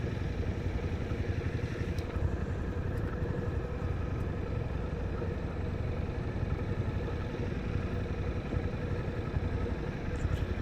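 A Suzuki DL800 V-Strom idles while being parked, a steady, moderately loud, even engine rumble that runs unbroken throughout, with no voices over it.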